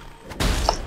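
An exploding enemy in the Path of Exile video game goes off as a sudden dull thud-like burst after a quiet lead-in, followed by a short ringing tail.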